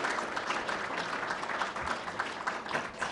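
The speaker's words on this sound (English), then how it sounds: "Let's give a nice round of applause to Maurizio, Sarah, and Jennifer" Applause from a conference audience honoring presenters, steady dense clapping throughout at a moderate, somewhat distant level with no voices over it.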